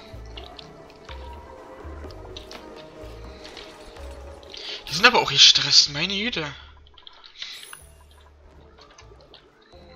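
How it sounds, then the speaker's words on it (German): Dirty water drips in the colony-building video game Oxygen Not Included, a burst of splashy liquid clicks and squelches rising briefly over quiet game hum and soft clicking, with a person talking before it. "Hier ist ein bisschen ekliges Wasser runtergefallen."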